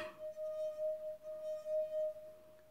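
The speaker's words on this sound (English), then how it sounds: "That's when you know it's a legit wine glasses, if it can make that little woo sound" Wine glass ringing with a sustained, steady tone that wavers slightly in loudness across the clip, with no talk.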